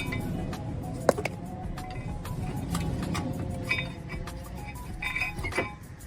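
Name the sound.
removing brake pads from Nissan Qashqai caliper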